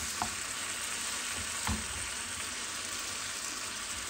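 Marinated chicken frying in about two spoonfuls of cooking oil in a pan gives a soft, steady sizzle throughout, with a couple of faint stirring knocks.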